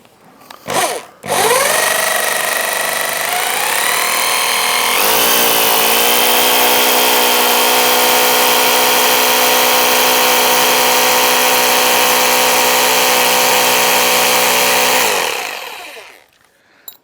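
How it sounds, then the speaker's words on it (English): An SDS drill with a 10mm bit spins up and bores into a wall steadily for about fourteen seconds, a loud continuous whine and grind that rises in pitch, then stops abruptly. "So it's a 10mm drill bit. I'm going to use obviously my SDS for this."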